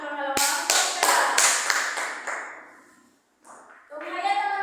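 A group of children clapping in a class, several quick sharp claps in a rhythmic burst fading off, then a short pause before a voice resumes talking.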